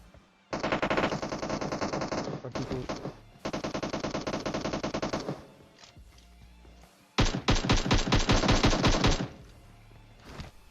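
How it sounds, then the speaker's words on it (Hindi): Rapid automatic gunfire in a video game, in three long bursts separated by short pauses, loud and close, with a few single thuds between. "फिर गोलियां चलती हैं यहाँ पे।"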